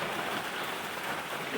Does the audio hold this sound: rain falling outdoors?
yes